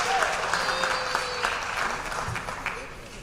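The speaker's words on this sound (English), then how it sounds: "Let's give a round of applause for our varsity field hockey team." An audience at a fall athletic banquet applauds the varsity field hockey team. Indoor clapping is continuous and moderately loud, easing slightly toward the end, with faint crowd murmur beneath.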